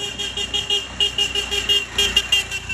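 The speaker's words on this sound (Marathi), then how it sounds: "गाड्या हॉर्न वाजवत चालल्यात" On a fog-covered market street early in the morning, vehicle horns honk in a steady series of short, repeated toots from passing traffic at moderate distance.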